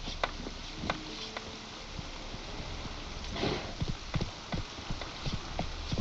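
Roach the horse gallops in The Witcher 3, with a steady run of clip-clopping hoofbeats over a continuous game ambience, close and at a moderate level.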